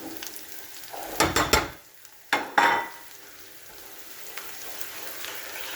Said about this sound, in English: Next thing with powdered spices is you want to cook them off a little bit.